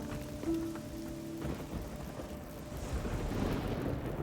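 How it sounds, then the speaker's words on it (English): Steady rain with low thundery rumble from a storm in the video game Risen 2: Dark Waters, a continuous wash of falling water that swells slightly toward the end, no talk. "This storm is really just going to be this persistent?"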